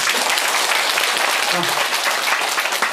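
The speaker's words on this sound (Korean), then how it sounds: "박수 한번 주시죠." A lecture audience gives a round of applause for officials at a cultural talk, steady dense clapping throughout.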